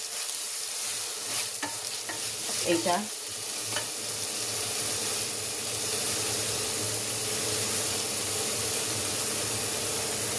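Onion, prawns and grated coconut fry together in a pan on a gas stove, a steady sizzle running throughout with a few stirring scrapes near the start and no talking.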